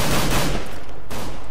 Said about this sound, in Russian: Неаккуратная стрельба у Леона.